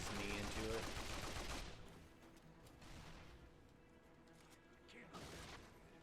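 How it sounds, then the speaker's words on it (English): Heavy weapons fire in the Mercenaries 2 video game, a loud burst of shooting and blasts at the start that fades into quieter distant rumbling and scattered shots, with someone talking faintly. "Somebody is shooting rockets."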